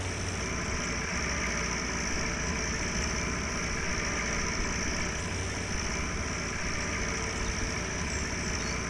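A tractor fitted with a topper idles steadily in a field during a 1961 autumn potato harvest, a constant low engine rumble with a high whine, close and continuous throughout with no talk.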